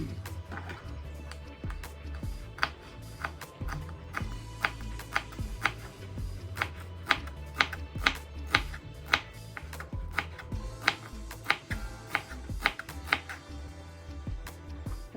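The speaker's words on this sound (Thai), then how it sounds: "หั่นต้นหอม เอาไว้โรยหน้า" A knife chopping green onions on a cutting board for kimchi soup, sharp regular taps in a steady rhythm, close and fairly crisp.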